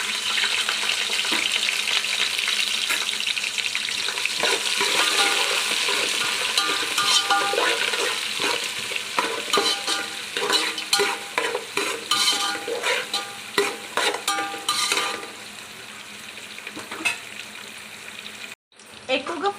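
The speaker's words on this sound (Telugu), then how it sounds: "ఇప్పుడు మనం దీంట్లో గరం మసాలా ఫ్రై అయిపోయినాక ఉల్లిపాయ, పచ్చిమిర్చి వేసి ఫ్రై చేసుకోవాలండి." Onions and green chillies fry in hot oil with garam masala for Telangana-style bagara rice. A dense, continuous sizzle runs throughout, with stirring scrapes and clatter becoming choppier near the end.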